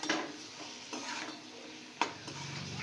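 Dry spices and chilli powder being stirred into prawns in a hot pan, a soft scraping and sizzle with a couple of sharp utensil knocks against the pan, fairly quiet and close with no talk.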